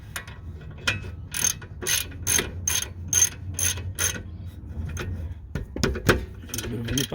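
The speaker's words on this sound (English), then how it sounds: "Nip them up with the ratchet" Ratchet snugging the brake bolts during rear disc rotor replacement on a 2004 Jeep Grand Cherokee: a steady run of crisp, close clicks in quick back-and-forth strokes, ending in scattered clanks and handling noises.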